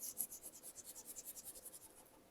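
A paintbrush scrubs paint back and forth onto the edge of a piece of furniture, making soft rhythmic bristly swishes, about eight strokes a second, close and quiet with no talking.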